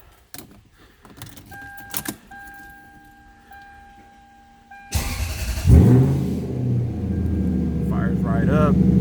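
An old Lexus starts after a few key jangles and dashboard chimes. The engine cranks and catches, then settles into a loud, steady idle close by while someone talks over it.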